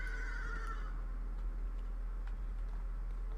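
A horse whinnies in a fantasy MMO game, a short neigh near the start over steady game ambience with faint ticking clicks after.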